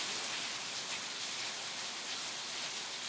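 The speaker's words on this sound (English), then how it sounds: "rainy day like today" Steady rain falls on a rainy day, a dense, even hiss with no breaks and no voices.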